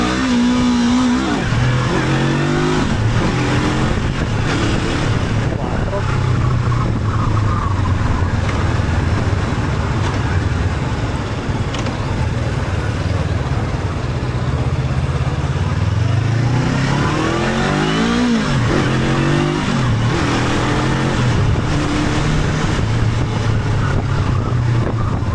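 A Honda NX 500 E-Clutch motorcycle accelerates hard toward top speed, its engine roaring loud and close with rising revs and gear shifts, with heavy wind rush throughout.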